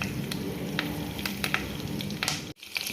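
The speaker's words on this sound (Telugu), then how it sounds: "కొంచెం జీలకర్ర, కట్ చేసి పెట్టుకున్న పచ్చిమిర్చి, కొద్దిగా కరివేపాకు వేసుకొని ఫ్రై చేసుకుందాం." Cumin, green chillies and curry leaves fry in hot oil for a masala egg curry, giving a close, steady sizzle with sharp crackles and pops, briefly dipping near the end before resuming.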